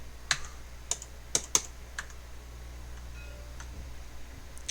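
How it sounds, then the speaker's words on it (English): Sparse, uneven clicks of a computer keyboard during play of a tabletop-style strategy game, several sharp close keystrokes in the first two seconds, then fainter, scattered taps over low steady background hum, no talking. "Keyboard."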